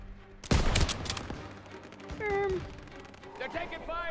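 Gunfire in the Call of Duty: WWII campaign: a loud burst of shots and game effects sounds near the start, then battle noise continues with further impacts and tonal sweeps as a voice talks throughout.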